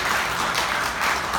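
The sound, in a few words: congregation applause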